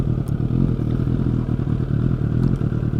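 A Suzuki GSF 600 N motorcycle engine runs steadily close by, a deep, throbbing rumble with a fast pulsing beat and mechanical clatter, loud and continuous throughout without voices.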